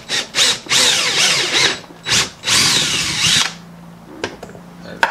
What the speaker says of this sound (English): let's go ahead and get our hole drilled.